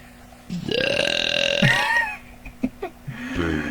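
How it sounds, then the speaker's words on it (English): A long, deep, croaking burp rolls on for about a second, followed by a few short thumps and a softer vocal noise at the end. "Is that a death burp?"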